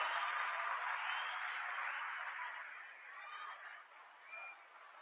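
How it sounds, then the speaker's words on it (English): Audience applause for Christina rolls on as a soft, distant wash of clapping that stays even and slowly fades across several seconds. "let's give her a round of applause"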